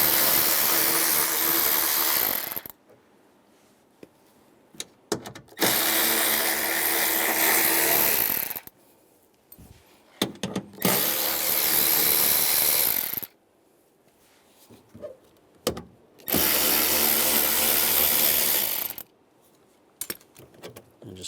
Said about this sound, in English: Using a 10mm socket, take those bolts out.